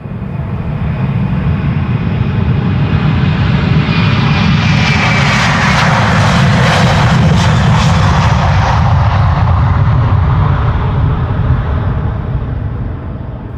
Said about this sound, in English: This Airbus A330 struck multiple birds shortly after departure from Amsterdam.